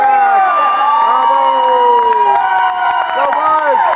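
Parents in a crowd at a junior high school wrestling match cheer and whoop loudly and continuously, with high shouted voices rising and falling over steady crowd noise.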